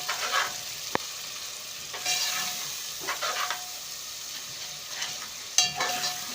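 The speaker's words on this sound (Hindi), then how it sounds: "इसको मैं थोड़ा सा भूनूंगी अच्छे तरीके से" Masala for muttar qeema fries in a pan, a soft sizzle broken by several bursts of stirring and scraping, with a sharp clack near the start and another near the end.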